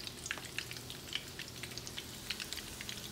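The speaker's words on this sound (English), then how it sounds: "So we got the breaded chicken frying right now." Breaded chicken for a chicken parmesan fries in hot oil, a quiet, continuous sizzle dotted with sharp little pops and crackles at an irregular pace, with no talking.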